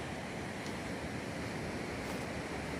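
Sea waves roll in at a beach resort in Bauang, La Union, making a steady, unbroken roar of surf that fills the whole moment with no voices.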